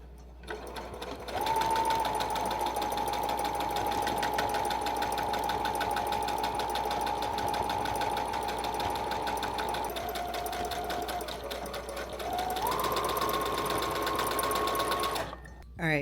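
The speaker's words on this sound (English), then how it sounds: "now we are gonna take this to my serger or overlocker and serge all the way around this whole piece" Serger overlocker stitching around the edge of a fabric piece for a tiered pleated mini skirt: a steady whirring drone that runs continuously, slows briefly mid-way, then speeds back up before stopping.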